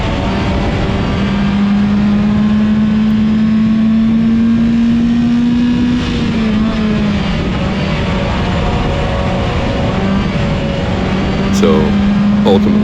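Race cars running laps at Willamette Speedway in the Hornet 100, a steady loud engine drone with one car's pitch holding and shifting as traffic passes, continuous throughout with a voice talking over it.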